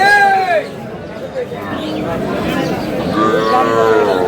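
Dairy cows and calves of improved breeds low and moo at a busy weekly cattle market in Aftabganj, Dinajpur. Several long, loud calls rise over a steady hubbub of crowd noise and voices.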